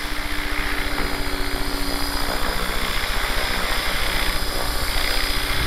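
An HK500GT RC helicopter performs pitch pumps outdoors, its rotor and motor making a loud, steady whine with a rhythmic pulsing throb as blade pitch cycles up and down, heard alone.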